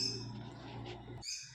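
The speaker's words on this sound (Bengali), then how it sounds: "আপনারা হয়তো পাখির আওয়াজ পাচ্ছেন" Birds chirping and calling in the background, fairly faint, with a low steady hum underneath; short high calls near the end.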